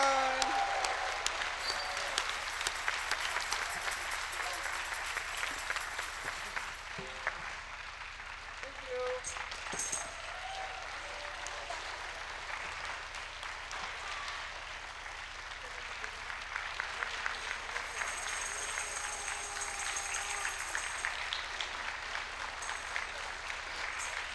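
Audience applause at the IBBY-Asahi Reading Promotion Award Ceremony during the 38th IBBY World Congress: steady, fairly faint clapping from a crowd, continuing for the whole stretch, with a few brief voices over it.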